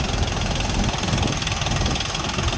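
A new 2024 Dongfeng 244G2 mini tractor engine idles steadily and loudly up close, a continuous rough, knocking drone with no voices.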